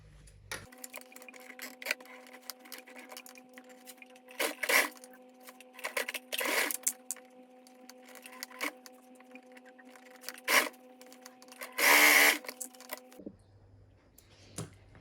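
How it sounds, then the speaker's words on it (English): A sewing machine hums steadily while stitching, with scattered clicks and rustles of fabric being handled, ending in a short burst of louder noise. "I'll be using the sewing machine to sew it down."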